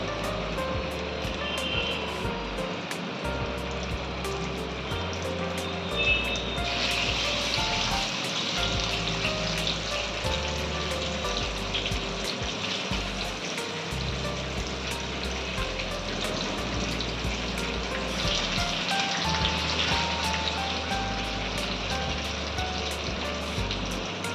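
Pieces of fish sizzle steadily in oil in a pan for a Goan GSB Konkani fish thali. The frying hiss is continuous and fairly loud, swelling in a couple of places, over a low background drone.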